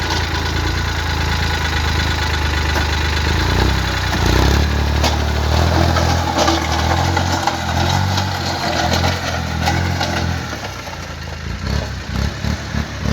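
Kubota B2420 tractor engine running steadily and loud up close, a low chugging idle with mechanical clatter throughout, easing slightly toward the end.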